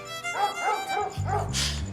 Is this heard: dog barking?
yes